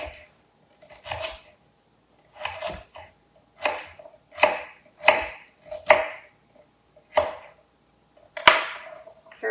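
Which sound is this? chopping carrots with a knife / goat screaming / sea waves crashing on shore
chopping carrots with a knife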